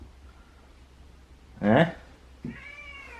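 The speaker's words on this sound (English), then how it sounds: "She's really meowing like there's really something wrong." Pet cat Cleo gives a loud, drawn-out distressed meow, then a shorter, quieter second meow, against a quiet room with a brief spoken interjection.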